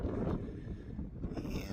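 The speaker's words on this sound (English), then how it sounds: "we're getting a good little wind gust right now" Wind gust blowing outdoors near a house, a low buffeting rumble against the microphone that swells and eases throughout, fairly loud with no talk.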